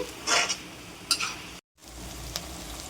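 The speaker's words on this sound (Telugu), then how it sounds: "అదే మూకుడులో ఆనియన్ చిన్న చిన్న పీసెస్ కట్ చేసి మంచిగా కొంచెం పింకిష్ కలర్ వచ్చే వరకు మనం ఫ్రై చేయాలండి" Small onion pieces fry in a wok with a steady sizzle, and a spoon scrapes and stirs through them in short bursts, close and clear, with a brief gap of silence partway.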